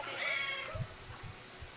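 A cat meows in the video game Brothers: A Tale of Two Sons, a clear drawn-out meow up front, followed by soft low thumps and quiet background sound.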